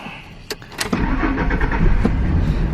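A drift car's engine cranks and fires up with a couple of sharp clicks, then settles into a loud, steady idle rumble close by, with no talking.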